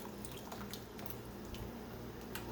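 Hot water poured out of glass canning jars into a cooking pot while canning peach halves, a steady close splashing and dribbling with scattered drips throughout.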